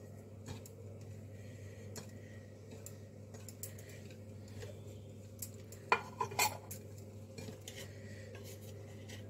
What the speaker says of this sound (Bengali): এই দিয়ে আমি আলতো করে মেখে নেব।